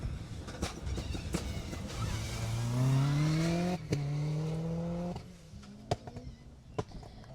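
A rally car on a closed stage at the Jersey Rally approaches and passes close by, its engine note climbing through gear changes, then fading into the distance with a few sharp pops.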